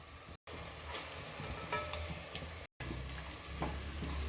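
Cumin, fennel seeds, cardamom, a bay leaf and green chillies sizzle steadily in a hot pan, with soft stirring scrapes and two brief cutouts, no talk.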